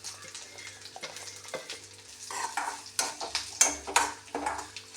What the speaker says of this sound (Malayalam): ഉണക്കമുളകും കറിവേപ്പിലയും തേങ്ങയും ചെറിയ ഒരു കഷ്ണം ഉള്ളിയും എല്ലാം കൂടി വറുത്ത് ചോക്ക വറുത്തിട്ട് ഒഴിക്കുന്നുണ്ട് കറിയിൽ.